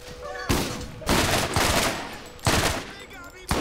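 Rapid automatic gunfire from the Borderlands video game rattles out in several loud, dense bursts separated by brief lulls, with a player speaking faintly in the background.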